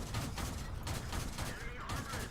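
Rapid tank gunfire from an L6/40 in World of Tanks comes in short bursts, several quick shots grouped into volleys with brief gaps between them, loud and close in the game mix.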